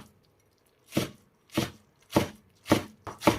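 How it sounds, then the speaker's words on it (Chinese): A knife chops drained cabbage into small dice on a cutting board, five crisp, evenly spaced thuds heard up close after a brief quiet start, with no voices. "先给它切成丝，最后再给它切成小丁"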